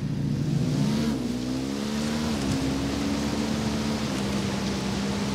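A motorbike engine in Ghost Recon Wildlands drones and revs steadily, its pitch climbing and holding in a continuous loud tone amid a broad roar.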